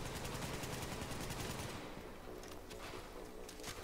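Rapid, dense automatic gunfire from The Division video game, loud and continuous at first and then thinning into scattered bursts and single shots toward the end.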